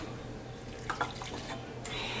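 Water is poured into a measuring cup while making a lemon Jello cake, giving a faint, quiet trickle with a couple of small splashes under a low kitchen background hum.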